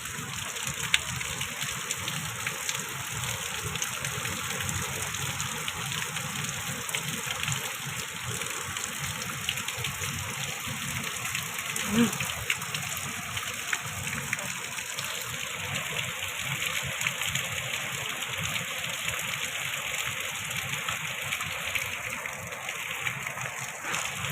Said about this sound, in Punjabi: ਕਿੰਨਾ ਪਾਣੀ ਆਉਣ ਲੱਗਿਆ ਵਾ ਜੀ ਦੇਖੋ ਜੀ ਕਿੰਨਾ ਬੁਰਾ ਹਾਲ ਹੋਇਆ ਪਿਆ ਹੈ ਮੀਂਹ ਨਾਲ